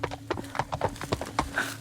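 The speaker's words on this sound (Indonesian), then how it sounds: "Seperti ada suara kuda." A horse's hooves clip-clop in a quick, steady rhythm, clear and fairly close, with faint background noise.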